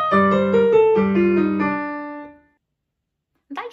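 A piano plays a slow descending line from Vivaldi's Summer storm movement of The Four Seasons over low sustained tones that rings out and fades. A brief voice comes in at the very end.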